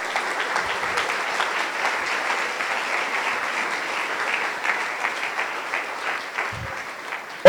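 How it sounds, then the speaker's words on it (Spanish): A church congregation claps steadily and evenly throughout, a dense sustained wash of applause at moderate loudness that fades slightly near the end. "denle un aplauso a nuestro Rey, por favor."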